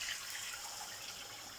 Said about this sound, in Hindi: तो मैं अब इसमें ऐड कर दूँगी ये पानी।